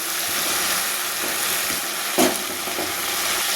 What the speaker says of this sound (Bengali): এবার আমি আঁচটাকে একটু কমিয়ে দিয়ে আরও একটু হালকা হালকা ভেজে নেব।